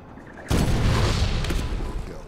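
Mortar rounds from Medal of Honor 2010 land in one sudden heavy boom that rumbles and slowly fades, close and loud.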